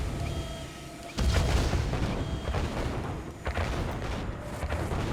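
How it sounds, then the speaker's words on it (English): Cannon fire booming in Yuri's Revenge, the real-time strategy game, with several heavy blasts landing in quick succession against a dense, continuous din of battle. "There's cannons everywhere."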